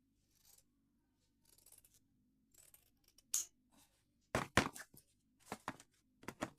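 Scissors snip through cloth being cut for a sleeveless frock, with sparse quiet snips at first, then louder, quicker cuts near the end, and no talking.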